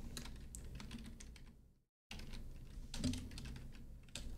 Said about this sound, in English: My microphone's like right in front of my keyboard.